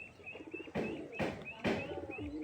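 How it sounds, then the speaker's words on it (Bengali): Pigeons at a pigeon seller's place coo in a steady run, with three louder bursts of fluttering or movement punctuating the soft repeated calls, fairly close. "এটি আমাদের কবুতর।"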